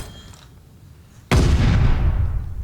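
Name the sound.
gunfire in the video game Call of Duty: Vanguard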